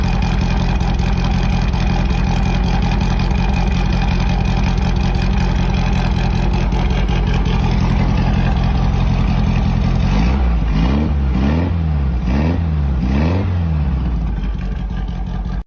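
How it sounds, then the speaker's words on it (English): A 1965 Volkswagen Beetle engine idles steadily and loudly up close, then blips through several quick revs in succession toward the end before settling. "This 1965 Volkswagen Beetle in Livingston, Tennessee is a running and driving classic with plenty of original character."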